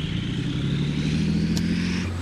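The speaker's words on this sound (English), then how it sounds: "This is where all the exhaust gases come out of the back of the tank." Exhaust from the rear grills of an AVLB armoured vehicle-launched bridge tank, a steady loud engine rumble with a low droning tone that holds evenly throughout, close by and continuous.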